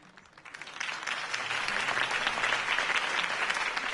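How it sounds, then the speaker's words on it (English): Applause from a crowd at a Harvey Dent campaign rally in Batman The Telltale Series, a dense clapping that swells from quiet to a steady, sustained ovation, moderately distant, with no voices on top. "could have heard that applause"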